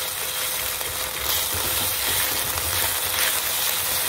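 Black pepper chicken stir fry with ginger sizzles and spatters in a hot pan, a steady bright hiss of frying heard close and alone, with no talk.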